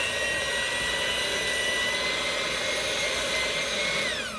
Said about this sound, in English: So we're going to go ahead and put our mixer on.